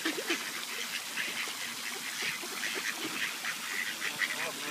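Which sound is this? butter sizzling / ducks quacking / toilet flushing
ducks quacking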